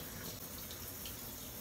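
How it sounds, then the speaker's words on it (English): Water from a shower running in a steady, close, continuous hiss with no breaks. "So now I'm taking a shower."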